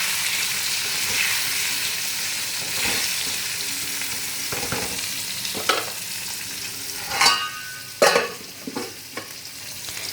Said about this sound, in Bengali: ততক্ষণ পটলটা ফ্রাই হোক।